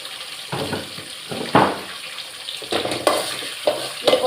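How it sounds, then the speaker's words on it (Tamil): Onions and garlic sautéing in oil in a pan, a steady soft sizzle broken by several louder bursts of stirring and scraping, close by. "வெங்காயமும் பூண்டும் அதையும் போட்டுப்போம். எல்லாம் ஒன்றா சேர்த்து எண்ணெயிலே வதக்கிடலாம்."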